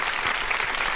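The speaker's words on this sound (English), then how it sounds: "That is applause for me" A brief burst of applause, a steady wash of clapping that fills the whole moment without pause.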